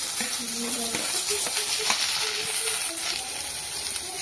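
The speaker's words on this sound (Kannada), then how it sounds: "ಒಂದು ದಪ್ಪ ಈರುಳ್ಳಿ ಕಟ್ ಮಾಡಿ ಇಟ್ಕೊಂಡಿರೋದು ಹಾಕೊಳ್ತಾ ಇದ್ದೀನಿ." Chopped thick onion dropped into a spoon or two of hot oil, a steady close sizzle and hiss with faint clinks, while a voice talks over the cooking.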